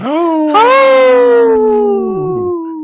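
A cat lets out a long, wavering howl close by, rising then slowly falling in pitch, with a brief whimpering dip near the end.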